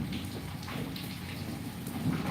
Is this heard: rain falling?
yes